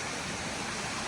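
A small stream of flowing water, steady broadband rushing and gurgling close by, continuous through the short stretch with no talk.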